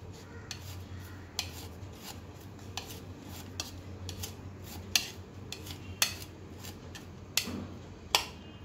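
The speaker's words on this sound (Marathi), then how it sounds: "आता आपण यात घालण्यासाठी ही कोथिंबीर चिरून घेऊ" A knife chops fresh coriander on a cutting board in a steady run of crisp taps, close but fairly quiet, over a low background hum with no talk.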